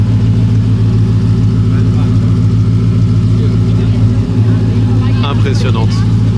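A Koenigsegg CCXR supercar idles loud and close on a Monaco street, a steady deep engine drone with strong low harmonics that holds throughout, with a brief shift near the end.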